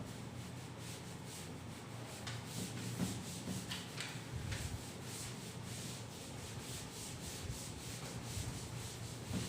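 Continuous rubbing as a board is wiped clean of writing in a maths classroom, a steady brushing scrape lasting several seconds at moderate level with no voices.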